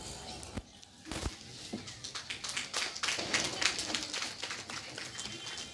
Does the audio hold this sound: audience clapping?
yes